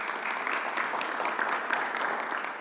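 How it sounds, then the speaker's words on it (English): An audience at a New York City event with Governor Cuomo gives a sustained, even round of applause, dense steady clapping filling the whole stretch. "let's give them a round of applause, please"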